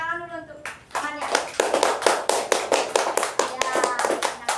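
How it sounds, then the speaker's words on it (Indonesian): Children in an elementary classroom clap their hands together in a quick burst of sharp, rhythmic claps after a short spoken prompt from a teacher, the claps close and loud and spaced in a regular beat. "Tepuk tangan dulu untuk temannya."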